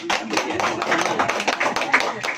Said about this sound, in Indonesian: Tepuk tangan buat Bu Masito